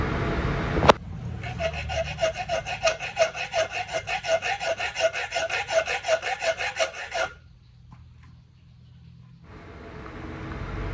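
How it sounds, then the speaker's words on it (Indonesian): Rhythmic rasping strokes of a hacksaw biting into a 6 mm iron rod, about twenty even back-and-forth passes, then the sawing stops and a quiet hum remains. "Ini menggunakan gergaji besi ya."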